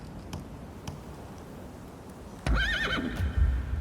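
A horse in the video game Rise of the Ronin lets out a loud, close whinny with a wavering pitch, followed by a few heavy hoof thuds after a quiet stretch.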